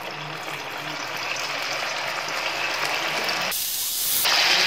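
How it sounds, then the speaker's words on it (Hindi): Marinated cauliflower pieces for crispy gobi manchurian go into hot oil for deep frying, a loud continuous hiss that swells and brightens sharply near the end as the oil bubbles up. "ये डीप फ्राई होना है"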